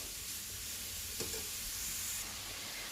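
Continuous sizzle and hiss of grated carrots roasting in a pan for Hyderabadi gajar ka halwa, with occasional scraping stirs, close and steady with no talking.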